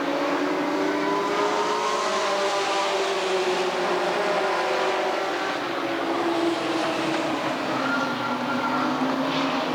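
Race cars in a Sportsman main event at Redwood Acres Raceway in 1991 come out of turns three and four, a steady loud engine roar droning through the whole stretch, rising and falling slightly as the pack passes.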